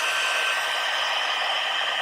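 A handheld heat tool blows hot air over a handmade birthday card, producing a loud, steady, continuous whoosh of air with no breaks.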